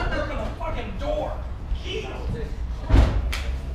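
A stuck door is forced open with a heavy thump and scrape near the end, after a stretch of people talking over faint knocking and rattling.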